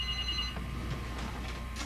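Telephone ringing in a short burst of bright bell tones that then stops, leaving a low hum with faint indoor clatter.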